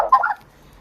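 An Australian magpie gives a short, clucking call much like a chicken, a single brief burst under a second long, close and fairly loud before fading to quiet.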